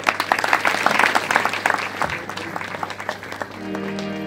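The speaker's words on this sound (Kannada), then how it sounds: "ಅವೆಲ್ಲ ಜೋರಿ ಚಪ್ಪಾಳೆ ಹಾಕಿ." Applause from an audience at a religious discourse at Kadakola Sri Madiwaleshwara Math, a dense burst of clapping that thins out over about three seconds before a sustained instrumental tone takes over.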